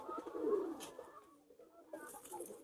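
Soft, low pigeon cooing up close, a throaty murmur that fades and returns amid faint rustling.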